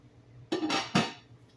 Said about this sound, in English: Now, we're going to put the lid on it.